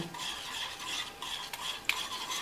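Batter of watermelon with a little salt and half a spoon of baking powder being mixed in a bowl: a steady soft stirring swish, close and fairly quiet, with a few light scrapes and a tap, no voices.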